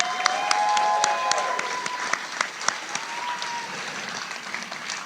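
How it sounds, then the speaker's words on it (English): A live podcast audience applauds its panelists, steady close clapping with scattered sharp individual claps throughout, no talking over it. "How about a round of applause for our panelists?"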